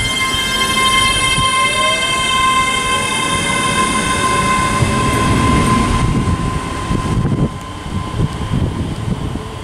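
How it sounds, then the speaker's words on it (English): A ScotRail train pulls out of Prestonpans station on the East Coast Main Line, a loud steady rumble of wheels and motors with a high whine and a brief horn, gradually fading as it departs. "now the parting is going to be the 10:54, slight delayed 10:54. Well, slightly delayed 10:54. ScotRail service to North Berwick."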